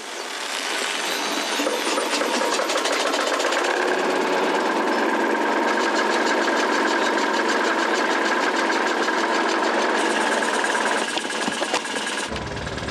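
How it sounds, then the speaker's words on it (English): A small wood-fired Pritchard Power S5000 steam engine driving a generator chugs steadily with a fast mechanical rhythm and a whirring hum, running continuously before cutting off abruptly near the end. "we're about to spin the wheel on the Pritchard Power S5000 steam engine"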